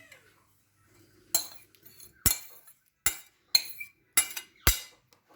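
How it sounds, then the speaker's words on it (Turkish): Chopped lettuce tipped and pushed into a tray bowl, a string of about six sharp, close clattering knocks with quiet pauses between, each a quick hard contact of utensil or bowl. "Şimdi arkadaşlar kıymış olduğum marulumu tepsime kabıma alıyorum güzelce."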